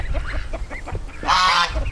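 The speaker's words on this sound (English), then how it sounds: "But my other two geese are Chinese crested" Chinese crested goose honking close by in a backyard flock, one loud nasal honk near the end, preceded by softer grunting and clucking calls.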